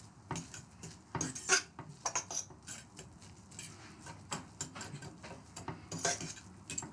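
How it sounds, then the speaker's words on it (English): A fork fluffing cooked rice in a pot for a one-pot pickle-brined chicken and rice dish, producing quiet, irregular metallic scrapes and clinks against the pot, close and faint. "Take a fork and just fluff."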